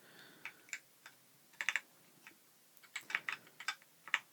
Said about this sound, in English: I'm just going to do a quick typing test.